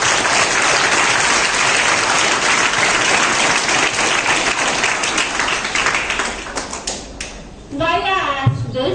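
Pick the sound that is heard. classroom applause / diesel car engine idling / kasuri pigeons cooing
classroom applause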